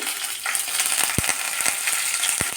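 Green chillies and curry leaves crackle in hot oil in a pan for an egg curry, a steady bright sizzle with a few sharp pops and spatters standing out, close and continuous with no voices.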